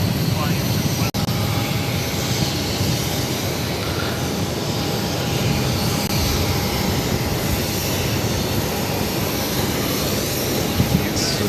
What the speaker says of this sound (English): 242 taking off to Amsterdam on the A330-300.